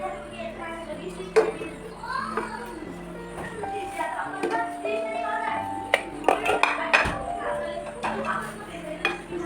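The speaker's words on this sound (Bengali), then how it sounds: "সবাইকে হচ্ছে প্লেটে, প্লেটে হচ্ছে বেড়ে, বেড়ে দিচ্ছিলাম গরম অবস্থাতেই" Hot food served onto plates for iftar in a Bengali village home clinks as scattered spoon and dish knocks, close and irregular, with someone talking and children's voices nearby.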